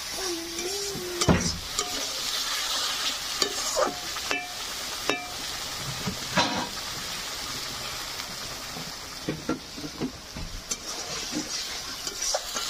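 Spice masala with chilli powder sautéing in hot oil for a catla fish curry, a steady close sizzle broken by repeated scraping stirs and spoon knocks against the pan, with no talking.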